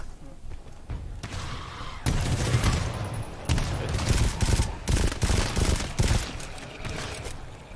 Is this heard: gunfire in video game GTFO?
yes